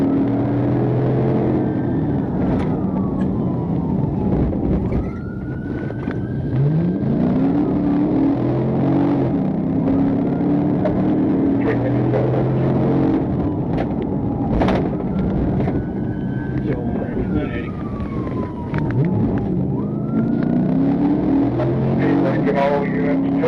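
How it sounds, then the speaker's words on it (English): A Lexus accelerating hard while fleeing in a police pursuit, with a continuous loud engine roar and rising, falling revs or siren-like tones sweeping through, sustained for the whole stretch. "the Lexus turned west on Giles Avenue, accelerating and initiating a pursuit"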